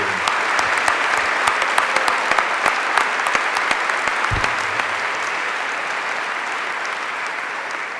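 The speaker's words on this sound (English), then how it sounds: "So let's give them another round of applause for the great work" A large crowd at the Austrian World Summit 2018 gives a long round of applause, a steady, even roar of many hands clapping with sharp individual claps standing out, lasting about eight seconds.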